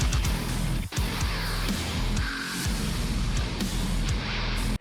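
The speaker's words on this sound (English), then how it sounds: "today I want to show you how we can use effects and automation to make guitars sound like this." Metal guitars processed with dubstep-style effects and automation play loud, dense, distorted riffs, chopped and filtered into stuttering, wobbling patterns with a brief dropout near the start.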